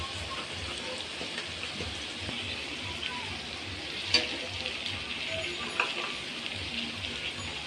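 Turmeric and cumin powder are sautéed in a pan for an eggless roll filling, making a close, continuous sizzle with a few sharp stirring scrapes and no talk.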